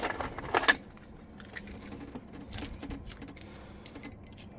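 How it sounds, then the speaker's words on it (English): Car keys jangle in a bright metallic burst at the start inside a Foxbody Mustang, followed by scattered quieter clinks and a small rattle near the end. "Keys here."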